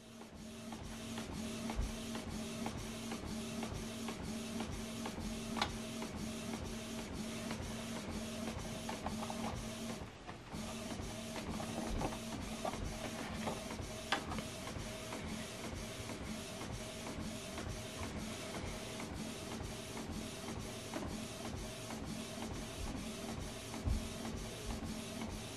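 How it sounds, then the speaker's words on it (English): A Canon printer runs continuously while printing a document from an iPad, a dense steady whir with fast regular clicking and a brief dip in the noise before it resumes, heard up close with no talking. "So it's printing it out."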